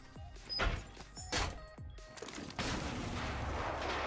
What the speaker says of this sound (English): And we will shoot out the front of the window and along the top.